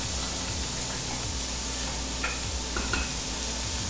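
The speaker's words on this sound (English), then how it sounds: "I always make sure it's nice and hot, so it sizzles" Chopped onions, garlic and green pepper sizzle steadily in a hot, oil-free pan for plant-based chili, a soft continuous hiss with a few faint clinks of stirring.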